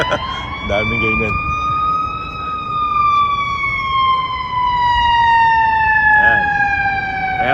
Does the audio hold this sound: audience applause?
no